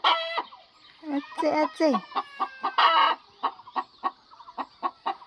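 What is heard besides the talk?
chickens, white hen and rooster clucking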